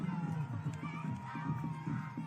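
Roadside crowd of fans at the UCI 2025 road cycling championships in Rwanda, a steady murmuring hubbub with scattered shouts and cheers running continuously at moderate distance.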